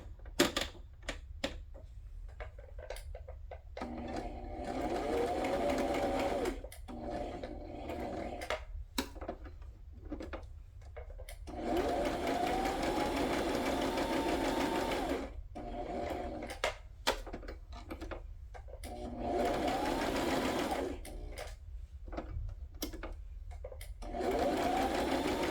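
A sewing machine runs in long steady stitching bursts broken by short pauses, close and clear, with no talking over it.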